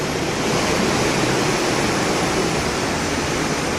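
Strong hurricane wind and rushing water roar steadily through an apartment hallway where windows have blown out, a dense, loud, unbroken wash of noise with no talk.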